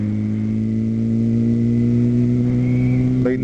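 A Suzuki Gixxer motorcycle ridden at night, its engine a loud, steady mid-pitched drone at constant speed, close up, with a brief shift in tone near the end.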